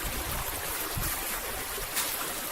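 A creek in northern Tasmania flows steadily, a soft broadband babble of moving water with a faint splash partway through, heard without talk.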